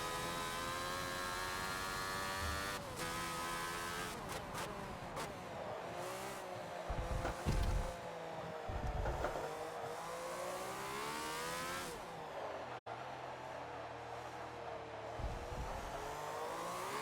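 A 1976 Ferrari F1 car in Forza howls around Yas Marina, its engine winding up through rising revs, dropping on upshifts and climbing again, loud and continuous with brief tire noise.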